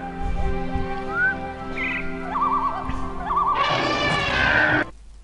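A donkey brays in the video game ANNO 1503, a loud harsh burst lasting about a second near the end, following several shorter squeals over steady game music and ambience.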